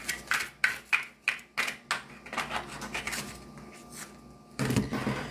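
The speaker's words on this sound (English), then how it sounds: "There's so many different ways to shuffle." Oracle cards being shuffled by hand, a run of sharp rhythmic riffling bursts about every third of a second, then a longer flurry after a short pause, close and fairly quiet.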